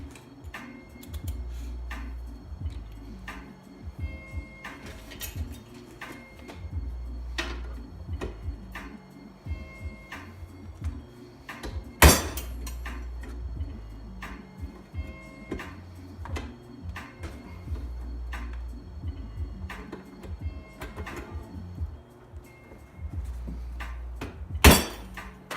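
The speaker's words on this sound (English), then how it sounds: "I'm probably going to give them a quick shot with the impact, just the handheld impact driver" A handheld impact driver struck with a hammer against the rusty spokes of a 1981 Honda XL125s wheel gives steady light metallic ticks, with two louder sharp blows standing out, close and with no talk.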